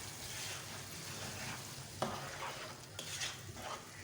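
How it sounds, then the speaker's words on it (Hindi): Tomato paste being stirred into a frying masala for a chana dal dish makes a steady sizzle under repeated scraping and mixing strokes, with a couple of sharper knocks against the pot. No voices. "अब हम इसमें डालेंगे टमाटर का पेस्ट, अच्छे से मिक्स करेंगे।"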